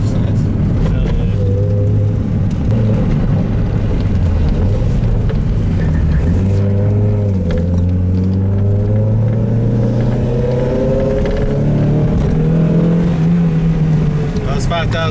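A Mazda Miata engine with a welded crankshaft revs up to 5,000 RPM, a loud, close exhaust drone that climbs, dips and climbs again in pitch over a rumbling low end.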